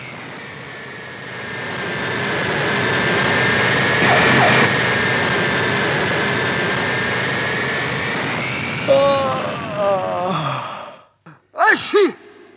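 Cartoon airplane's engine drones in a steady jet-like whine that swells and holds, then tapers off as the landing gear lowers; animated voices speak over the end.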